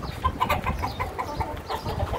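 Giant hybrid chickens cluck in a quick, repeated run of short calls, fairly close, with a soft farmyard murmur behind them, in extreme heat.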